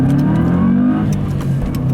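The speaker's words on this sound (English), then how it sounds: "That little turbo whine" A 2005 Subaru Legacy GT with a Cobb Stage 2 tune accelerates hard, its engine rising in pitch under a thin turbo whine, close and loud.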